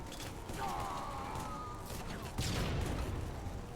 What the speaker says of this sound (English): And I just get a frag grenade in there.